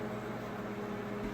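A microwave oven running with a steady, even hum and whir, close and constant throughout, no other sounds.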